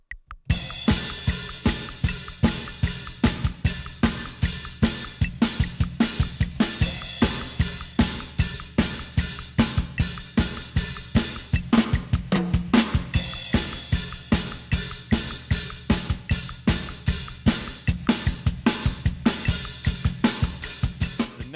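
Drum kit recorded through Audix microphones, playing a steady groove at full tempo for about twenty seconds, with regular kick and snare hits under constant bright cymbal wash and a brief fill partway through.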